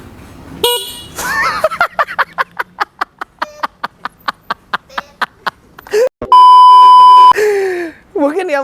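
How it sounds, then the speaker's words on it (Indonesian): A string of quick electronic beeps, then a loud, steady horn of a Yamaha Grand Filano Neo scooter honks once for about a second, close by. "Terus ini ada klakson."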